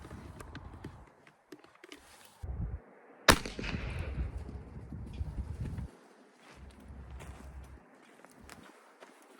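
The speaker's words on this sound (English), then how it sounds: "the first ones I'm gonna shoot is the 240 grain XTP" A single loud, sharp gunshot firing a 240 grain XTP round over a chronograph at an outdoor range, followed by a decaying echo and faint ambient background.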